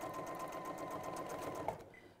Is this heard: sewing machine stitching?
yes